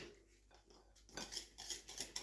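Whipped cream being stirred with powdered sugar and vanilla essence in a bowl, faint at first, then a run of quick, light clinks and scrapes of utensil against the bowl.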